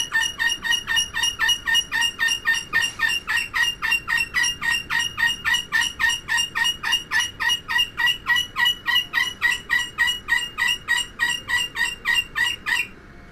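A bird in the Titanic VR video game calls loudly and relentlessly, a rapid, evenly spaced series of sharp, high, gobbling squawks repeating for the whole stretch, close and alone.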